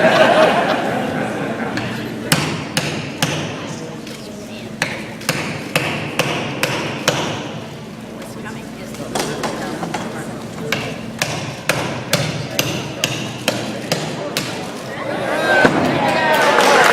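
Repeated sharp metallic blows of a hammer striking a 1962 time capsule during its opening in Cuyahoga Falls, an irregular series of loud impacts with a crowd chattering and cheering around them.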